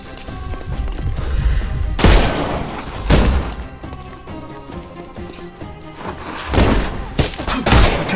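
Cannon blasts and gunfire in the Sherlock Holmes Chapter One video game: several heavy booming shots at intervals over a dense, continuous battle din, loud and close, with no talking.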